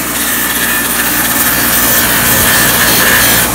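A painted engine part being scuffed by hand during a 6.0 Powerstroke fuel injector job makes a loud, steady abrasive rubbing. The scraping runs without pause, close up, with no talking.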